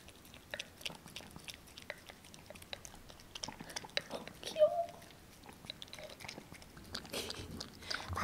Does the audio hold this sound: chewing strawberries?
yes